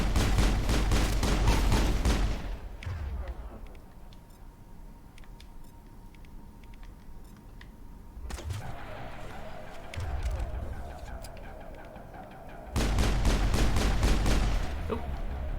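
Assault rifle fire in the video game Mass Effect, heard as three loud, sustained automatic bursts with quieter gaps of ambient combat noise between them.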